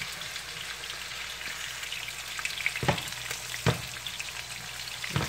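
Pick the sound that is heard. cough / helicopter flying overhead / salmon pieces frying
salmon pieces frying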